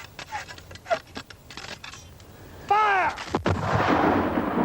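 A line of infantry fires Brown Bess flintlock muskets of the Napoleonic period, heavy booming reports in quick succession with a rolling echo, heard under a narrator's voice.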